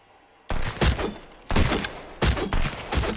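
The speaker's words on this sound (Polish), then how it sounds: "Strzela mi tu ktoś." Gunfire in the survival game Sunkenland, heard as three loud rapid bursts about a second apart, each a dense rattle of close shots with short pauses between.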